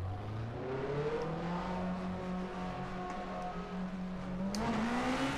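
A 2-litre front-wheel-drive British Super Touring racing car engine in rFactor 2 revs and climbs in pitch steadily, loud and close, with a rising whine near the end and no voices.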